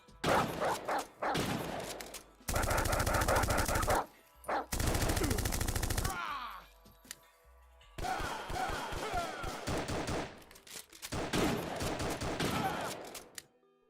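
Rapid shotgun and automatic gunfire in a gray-boxed indie video game, several loud sustained bursts with short gaps and a few scattered single shots, close and dry, no speech.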